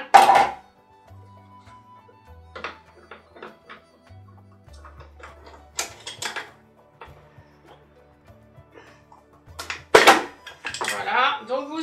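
Lid of a Philips pasta maker unscrewed and lifted off, scattered plastic and metal clinks, knocks and scraping handling noises, with a louder clatter near the ten-second mark, close by.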